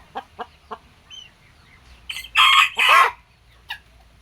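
Hens around a nest where a broody hen sits on eggs give a few short clucks, then two loud drawn-out squawking calls and one more brief cluck, all close and clear against a quiet background.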